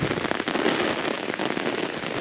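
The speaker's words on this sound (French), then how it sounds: "il y a le déluge de dingue. Il pleut." Heavy rain pours down around a treehouse cabin in a dense, loud, steady hiss of drops drumming on surfaces, with no voices.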